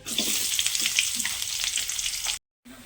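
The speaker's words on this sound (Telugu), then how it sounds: "కొంచెం నూనె వేసుకున్న తర్వాత గింజలు యాడ్ చేసేసుకోండి. దీంట్లో ఉల్లిగడ్డ యాడ్ చేసుకోండి." Chopped onions and seeds sizzle loudly in hot oil in a pan while a vegetable curry is started, a close, steady frying hiss with faint stirring, cutting off briefly near the end before resuming.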